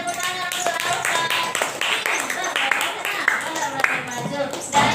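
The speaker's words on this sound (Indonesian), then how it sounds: "Tepuk tangan untuk Alfat." A group of people clap their hands together in a classroom, producing a fairly loud, steady patter of overlapping claps that carries on throughout with voices mixed in.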